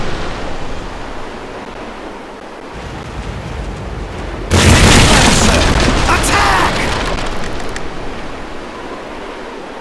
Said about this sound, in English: Low cannons, grape shots.